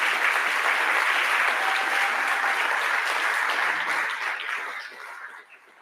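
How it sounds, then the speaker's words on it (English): Conference audience applause fills the room, a dense steady clapping from many hands that holds for several seconds and then fades away toward the end. "give these guys a round of applause"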